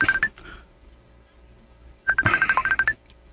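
Cellphone keypad tones sound close and loud: a short cluster of beeps, a pause, then a quick run of about a dozen rapid dialing tones.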